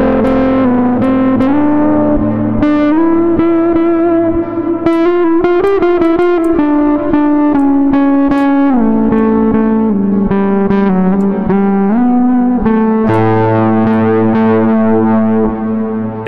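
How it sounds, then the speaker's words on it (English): Distorted guitar run through a Surge XT distortion module in VCV Rack plays a melodic line alone, gritty and saturated, with sustained notes, quick runs and a thick chord near the end. "we've got this distortion module from Surge XT"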